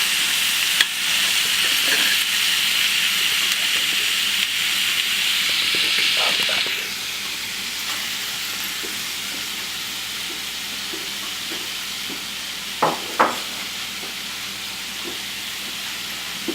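Onions and peppers for a Super Bowl chili brown in a pan with a loud, steady hissing sizzle that eases partway through, broken by a few stirring clacks.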